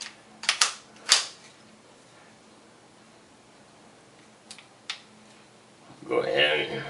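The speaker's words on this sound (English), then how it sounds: "So I'm going to go ahead and push it shut, close it up. I'm going to check the function of the gun." A Ruger 22/45 Lite pistol action being pushed shut and function-checked: a few crisp metallic clicks and snaps close by, then a short rustling scrape at the end, over a quiet room.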